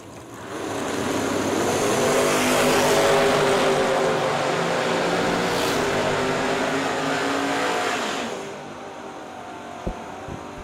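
Drag race cars launch and thunder down the track in one loud, sustained engine roar lasting several seconds before fading away, with a faint thump near the end.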